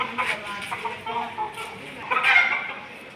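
Hens and their chicks cluck and peep close by in short bursts, with a speaking voice mixed in among the birds.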